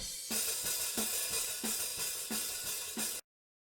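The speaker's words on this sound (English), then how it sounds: "And also a hi-hat mic." A hi-hat picked up close on its own microphone in a crust punk drum mix, with regular bright, splashy hits roughly every two-thirds of a second, each leaving a short low thump from the rest of the kit, cutting off abruptly at the end.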